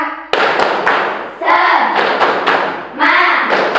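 Group of people clapping a 'tepuk semangat' cheer in a classroom, loud rhythmic bursts of claps in three short phrases with brief pauses between, voices mixed in.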